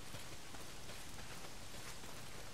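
Steady heavy rain pours down in the Days Gone game world, a dense, even hiss that holds without a break and without any voices.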